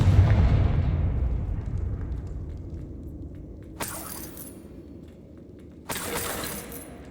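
A Confringo blasting spell goes off in Hogwarts Legacy, a loud rumbling explosion that decays slowly, followed by two sharp crackling impacts a couple of seconds apart.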